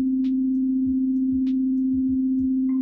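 Steady synthesizer tone from a Serum soft synth with unison oscillators, a constant held pitch droning throughout with a few soft blips and short sweeping chirps, no voices.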